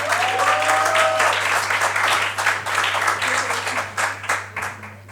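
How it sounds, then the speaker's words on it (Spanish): An audience at a cardiovascular unit medical conference breaks into strong applause, a dense burst of clapping that thins toward the end, with a brief tonal whistle early on and a steady low electrical hum underneath. "Un fuerte aplauso."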